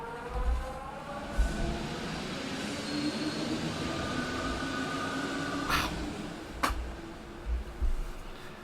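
Interior of a metro train in the video game Letters from the Metro, a steady rolling rumble with low thumps from the wheels over the track and two sharp squeals of metal, heard alone without talk.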